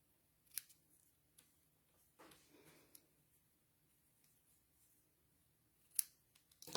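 A few quiet, separate snips of scissors trimming a small ribbon for a paper flower card, the first and last crisp and near, with long near-silent gaps between them.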